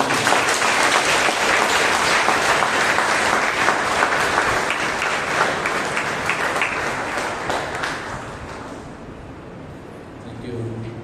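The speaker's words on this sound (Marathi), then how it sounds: "त्या परमेश्वराच्या आपण जोरात टाळ्या वाजवून आपण" A church congregation at a Monday prayer meeting claps loudly in praise of the Lord, a full, dense burst of applause that gradually fades toward the end, with a voice rising faintly as it dies away.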